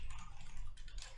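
Quick, steady typing on a computer keyboard, a close run of light key clatter that fills the short moment.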